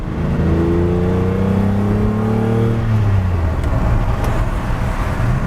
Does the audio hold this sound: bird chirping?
no